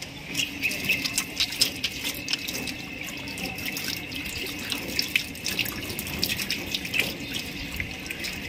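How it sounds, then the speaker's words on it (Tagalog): Water runs from an outdoor tap as hands are washed beneath it outside a chapel, a steady splashing gush broken by irregular drips and spatters, close and unbroken, with no voices. "Bago makapasok, ay kinakailangan maghugas ng kamay."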